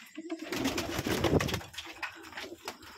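Pigeons at a home pigeon farm coo nearby, a few low rolling coos rising and falling over a few seconds amid faint rustling.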